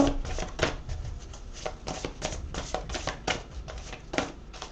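Playing cards shuffled and drawn during a horoscope card reading: a steady run of quick riffling, slapping flicks, close and moderately loud, with no talking.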